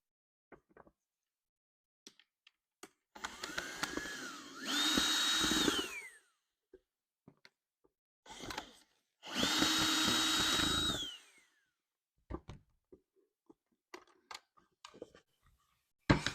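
A power drill whines in two separate bursts, each winding up and spinning down, as it backs hardware off an old wooden furniture piece before sanding, with light clicks and handling knocks in the pauses.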